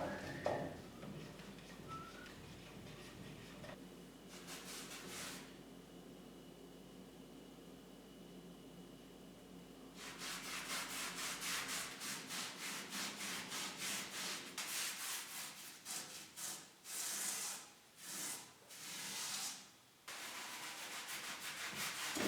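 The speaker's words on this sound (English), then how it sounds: "We also scrubbed off the rust" A rusty old stove is scrubbed by hand with a rough, rasping rubbing sound, faint at first, then louder in repeated back-and-forth strokes.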